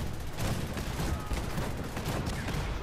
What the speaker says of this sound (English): Activate the cannons.